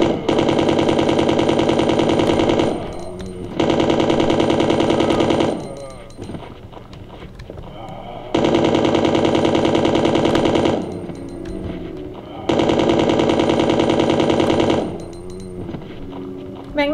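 Automatic weapon fire in Resident Evil 2 (1998), loud rapid bursts of about two to three seconds each, four bursts separated by short gaps, with players' voices in the pauses.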